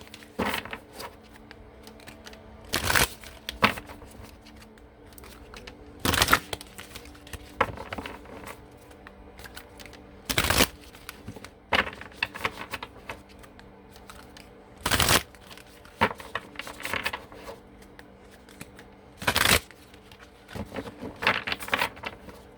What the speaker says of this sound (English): in the mornings, I just like to, shuffle the cards